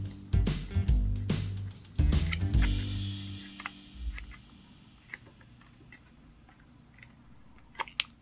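Origami paper is creased and folded close up, giving crisp crackles and sharp rustling bursts early on, then quieter taps and small paper clicks; no talking.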